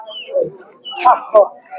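Domestic roosters and hens at a rural village haat famed for local chickens, giving a few short clucks and chirpy calls close by amid a quiet market.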